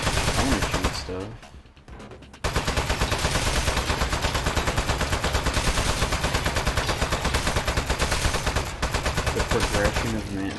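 Sustained rapid gunfire from the Valve video game Aperture Desk Job, loud and continuous for most of the span after a brief drop around the second mark, with a voice talking faintly beneath the shots.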